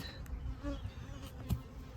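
Bees buzzing steadily at close range, a low droning hum with a few louder passes, no voices.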